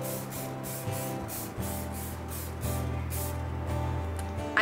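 A steady hissing spray with pulsing bursts, close by, over a faint humming background.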